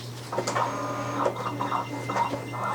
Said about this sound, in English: And I'm pressing to the cut machine and cut it.